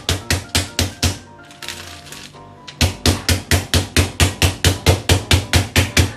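Rapid, steady pounding of a meat mallet on a pork chop, sharp repeated thuds about three per second, briefly pausing before resuming at the same brisk rhythm.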